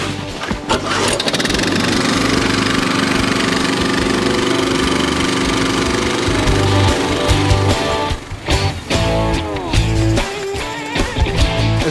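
A Belmash LSE-500 kinetic log splitter runs loud and close with a steady mechanical drone, broken by sharp knocks and cracks as logs of varying size are split, its motor dipping briefly before resuming.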